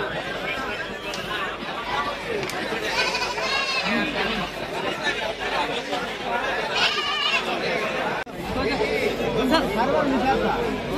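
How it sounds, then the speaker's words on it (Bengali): Goats bleating at a crowded goat market in Aricha, Manikganj, heard amid constant chatter of many people nearby. "সবাই যার যার মতো করে ছাগল ধরে রাখছে।"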